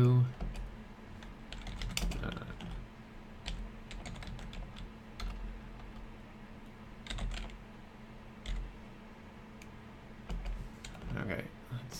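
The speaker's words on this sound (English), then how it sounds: "I have a terrible typing style, it seems" Someone types on a computer keyboard in scattered, uneven bursts of clicks and taps, fairly close, with a quiet voice talking at times.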